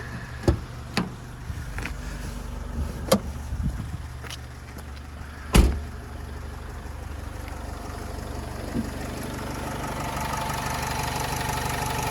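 A 2011 Renault Trafic 2.0 diesel van engine idles with a steady rumble throughout, with a few sharp clicks and knocks near the start and a brief louder thump partway through.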